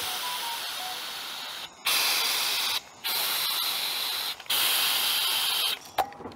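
CO2 gas purging a beer keg in loud, sharp hissing bursts, four long sprays separated by short silences, with a quick final puff.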